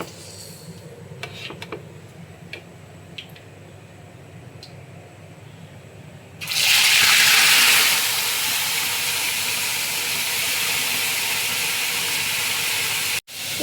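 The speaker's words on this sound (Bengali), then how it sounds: "এখন আমি মাছটা ভেজে নেব" Loitta (Bombay duck) fish coated with salt and turmeric is dropped into hot rice bran oil in a wok. After a quiet start, a sudden loud, steady sizzle begins and continues at full strength until the end.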